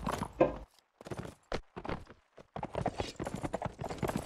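Horse hooves clip-clop in a video game: close, irregular bursts of hollow knocks with brief pauses between them.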